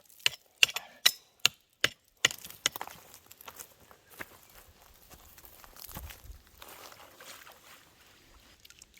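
Chunks of gold-bearing conglomerate from an abandoned gold mine are broken up by hand, with a run of about six sharp, evenly spaced knocks, then softer irregular crumbling, scraping and rattling of loose pieces, close and quiet with no talk.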